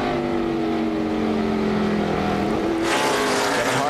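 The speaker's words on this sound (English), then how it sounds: "I hear him on the road limiter there" A NASCAR race car engine wails at a sustained high pitch on the rev limiter during a race, then crowd and track noise swell as another burst of engine sound takes over near the end.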